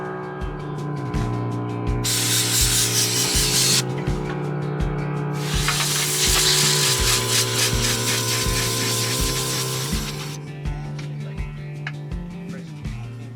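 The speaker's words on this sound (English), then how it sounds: "everybody cleaning the air filters full of dust after the Puna region" Air filters from an overland vehicle are cleaned of dust with a long, loud blast of compressed air that hisses in sustained bursts over a steady rhythmic mechanical drone.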